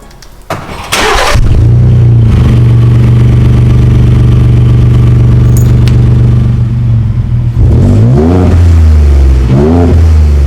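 A 2018 Ford F-150 EcoBoost fitted with a Magnaflow exhaust and added stainless steel piping starts up, then holds a loud, steady rev for several seconds before dropping back and blipping the throttle twice, close and without any talk.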